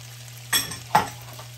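Capsicum, frozen peas and corn sautéing in a pan over a low flame, with a low steady hiss broken by two brief stirring scrapes close by and no talk.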